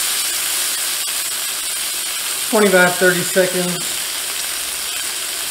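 Steak edges searing in a hot cast iron pan give a steady sizzle throughout, with a person talking briefly over it midway.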